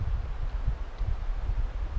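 Wind gusts through a campground in the Shasta-Trinity National Forest, a steady close rumble buffeting the microphone in uneven low pulses, with no voices.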